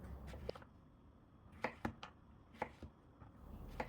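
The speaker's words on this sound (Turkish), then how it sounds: "Şimdi kabakları doğrayacağım." A knife chops zucchini on a cutting board in scattered sharp taps, a few quick strokes then pauses, quiet and close with no talking.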